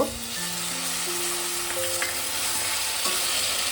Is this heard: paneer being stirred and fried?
yes